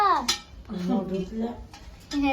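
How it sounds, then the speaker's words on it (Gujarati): Dishes and pans clink and scrape while someone washes them with little water during a water shortage, with a person talking over the clatter throughout. "પાણીની તંગી થઈ ગઈ એટલે પાણી વગર વાસણ ધોય મમ્મી"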